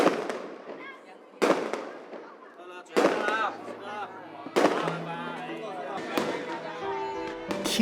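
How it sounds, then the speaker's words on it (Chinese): Firecrackers set off in bursts during Chinese New Year celebrations, sharp crackling volleys restarting about every one and a half seconds, with a voice talking underneath. "听着不间断的鞭炮声"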